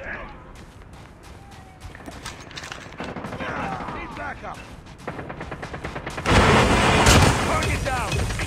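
Enemy players in Call of Duty Mobile fire bursts of rapid gunshots, close and loud, building in intensity toward the end with a sustained barrage and a flamethrower-like roar, while a player talks over the action.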